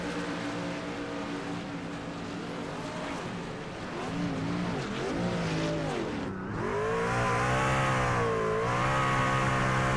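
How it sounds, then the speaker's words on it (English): A Craftsman race truck drifts around a dirt fairground oval, its engine droning and wavering in pitch as the throttle rises and falls, then revving harder and louder toward the end. "drifting the Craftsman truck around the track"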